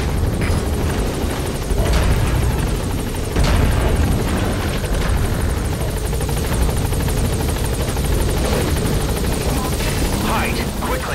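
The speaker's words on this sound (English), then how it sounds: "All right, the chopper's touching down." A helicopter in Metal Gear Solid V: The Phantom Pain touches down, its steady loud rotor and engine roar filling the scene throughout, with heavy low rumble and occasional thumps, while a voice talks over it.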